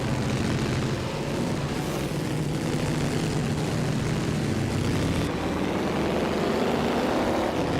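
A 1927 Delage 15 S8 vintage racing car engine roars continuously during a race, a loud, dense rumbling drone with a steady growl and little variation throughout.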